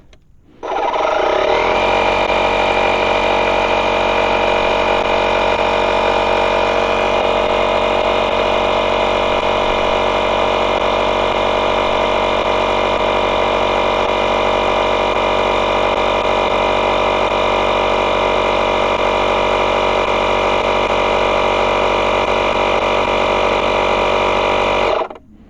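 A DeWalt air compressor inflating a tire runs with a loud, steady mechanical drone after a brief start, holding an even pitch for about twenty-three seconds before cutting off.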